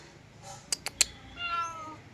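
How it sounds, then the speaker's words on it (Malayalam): A cat gives a few short, close meows in quick succession, standing out clearly against a quiet home background in a village setting. "പൂച്ച"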